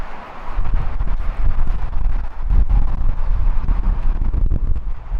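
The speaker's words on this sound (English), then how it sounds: "It's so windy." Strong wind blasts across the microphone in loud, low rumbling gusts outdoors on a cold, foggy day in Yosemite National Park, nearly continuous with one brief lull, and no talking.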